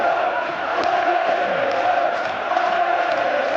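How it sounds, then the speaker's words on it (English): Rugby crowd at a French second-division match in Vannes chanting in unison, a dense, steady roar of many voices sustained loudly throughout with no single speaker standing out. "for the last 5 minutes of the match, the crowd chanted"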